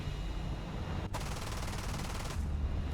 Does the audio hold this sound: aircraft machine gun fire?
yes